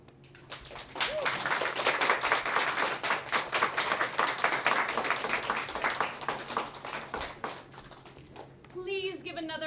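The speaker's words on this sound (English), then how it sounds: "Please give another round of applause for that beautiful, beautiful play." An audience claps after a play in a salon lounge, a dense burst of applause that swells quickly and holds steady for several seconds before thinning out, with a voice starting to speak at the end.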